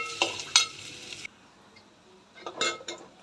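Onions with ginger-garlic paste sauté in a pan for a potato curry, loud sizzling bursts and utensil scrapes at the start, dropping to near quiet before another burst of stirring and clinking.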